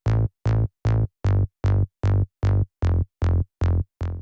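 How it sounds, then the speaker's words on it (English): A deep Serum synth bass plays eleven evenly spaced short notes on the offbeat in a trance track, each one a clipped, harmonically rich pulse separated by brief silence. "The first bass layer is a simple offbeat bass line,"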